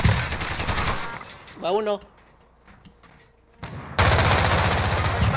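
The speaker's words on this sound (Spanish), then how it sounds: "Ah, me está disparando el otro." Bursts of automatic gunfire in a shooting video game, loud and rapid at the start and again at the end, with players talking over it and a quiet stretch between.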